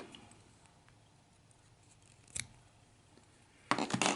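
Scissors trim foam while tying a crawdad fly, giving one short snip and then a louder cluster of rapid snipping at the end against a quiet background.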